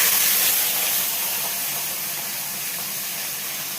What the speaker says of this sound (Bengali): মাছটা এবার ভেজে নেব।